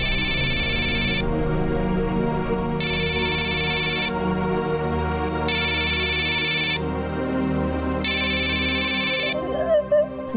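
A phone rings in four evenly spaced electronic bursts, loud and close, over a steady low background, with a brief voice at the end.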